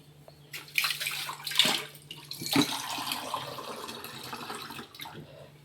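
Water splashes and pours into a pan of mixed leafy greens curry on a stove, with an uneven run of pouring and splashing at close range.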